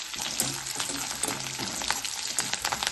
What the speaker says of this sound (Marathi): कढीपत्ता घालायचा आहे आता कढीपत्ता कडकड घालला पाहिजे